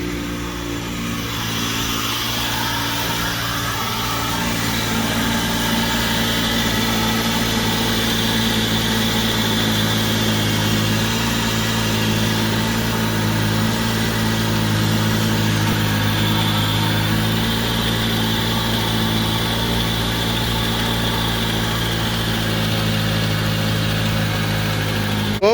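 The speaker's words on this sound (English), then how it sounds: "we're gonna start the car again and look for leaks" A car engine idles steadily just after an oil change, a constant close hum with low rumble and slight vibration, unchanging for the whole stretch with no talking.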